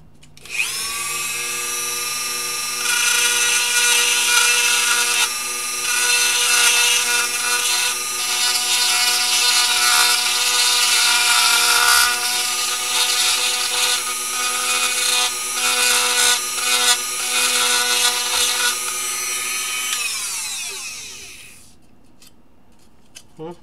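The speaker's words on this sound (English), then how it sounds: "I'm gonna Dremel the top corners of that out just a little bit" Dremel rotary tool grinds out the top corners of a small part with a loud, high, whining cut lasting about twenty seconds, wavering slightly as it bites, then spinning down to quiet.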